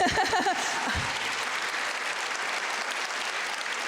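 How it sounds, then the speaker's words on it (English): Sustained audience applause at an evening education foundation celebration, broad and steady from start to finish, with a brief voice at the very beginning before the clapping takes over. "We can applaud if you like, that's fine."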